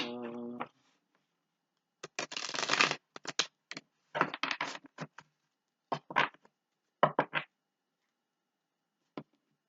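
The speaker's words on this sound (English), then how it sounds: "Do one more shuffle." A deck of tarot cards is shuffled in several quick riffling bursts, separated by short pauses, close and fairly quiet.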